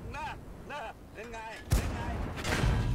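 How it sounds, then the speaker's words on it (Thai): World of Tanks battle: after a stretch of voices, a tank cannon booms once, and a second heavy blast follows moments later, both loud and close. "ยิงเขาหนึ่งนัดนนะครับ ดาเมจสองร้อยสิบสอง"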